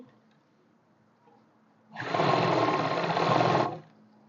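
A sewing machine runs a finishing stitch along a trouser seam, one steady burst of close, even whirring that starts suddenly after quiet and stops cleanly.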